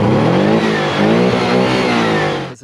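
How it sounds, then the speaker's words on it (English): A Porsche 718 Boxster's flat-four engine revs loud and close, holding a strong, steady drone with rising and falling pitch before cutting off sharply at the end. "This engine here is a flat 4 Boxster engine."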